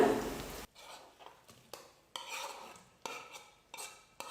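A spoon stirring mushroom masala in a pan on a stove over medium flame, a burst of sizzle first, then separate scraping and clinking strokes in an irregular rhythm, close and fairly quiet.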